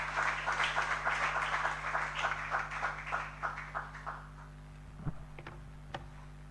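An audience at a student summit welcome event claps to greet an honorable guest speaker, a dense burst of applause that gradually thins and fades, followed by a few scattered knocks in a quiet hall.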